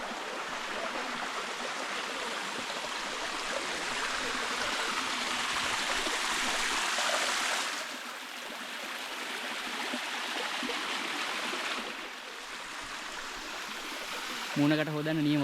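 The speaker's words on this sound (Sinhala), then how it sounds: "ලස්සන දොළ පාරක සද්දයක් ඇහෙනවා" A mountain stream flows along a forest trail, a steady close rush of water that holds throughout and shifts in level a couple of times, with speech in the background.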